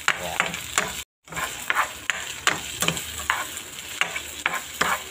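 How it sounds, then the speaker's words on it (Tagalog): Chicken pieces being stirred in a frying pan for sweet and sour chicken, a steady oil sizzle broken by repeated scraping stirs, close and fairly loud with a brief dropout near the start. "Halo-haloin lang natin para pumantay yung pagkaka-fry niya."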